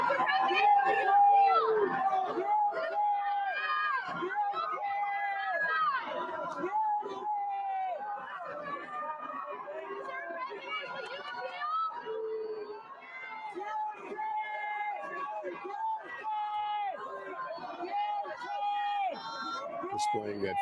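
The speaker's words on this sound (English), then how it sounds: "and you can hear crowds" A crowd chatters and calls out outside Donald Trump's residence after the hush money verdict, a steady babble of many voices with occasional shouts, fairly near and sustained throughout.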